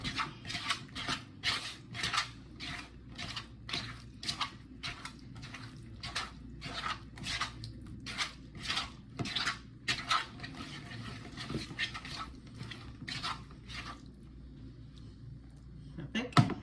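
Shrimp being tossed with seafood seasoning in a bowl, a quick series of soft wet slaps and clinks in a steady rhythm, faint and close, easing off near the end.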